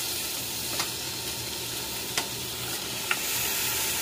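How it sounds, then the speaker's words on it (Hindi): Meat being added to a hot pot for beef karahi, giving a steady loud sizzle and fry hiss close by, with a few faint stirring clinks and no talking. "इसमें मैं गोश्त डाल दूंगी।"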